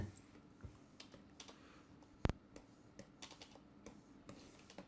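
Computer keyboard keys pressed at an irregular pace while animating in Flash, scattered light clicks with one sharper, louder keystroke partway through, close and fairly quiet.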